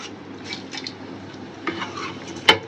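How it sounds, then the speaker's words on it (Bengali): A spoon stirs rice and lentils being sautéed in a pot for khichuri, giving soft scraping scrapes in short bursts, then one sharp clink of metal on the pot near the end. "এই যে চাউল আর মুসুর ডাল, এগুলো মুগ ডাল একবারে কষে ফেলাই"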